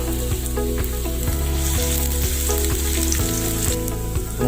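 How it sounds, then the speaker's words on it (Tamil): Green chilies frying in hot oil in a kadai give a steady, loud sizzle that runs unbroken throughout, with a repeating stirring rhythm underneath and music playing along. "எண்ணெய் சூடானோடனே பச்சை மிளகாய்,"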